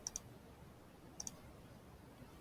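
Two quick pairs of soft mouse clicks, faint and close, separated by about a second of quiet room hiss.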